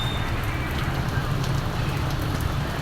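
Steady rain falling outdoors in warm weather, a continuous dense patter on surfaces with a low rumbling hiss, even and close throughout with no talking.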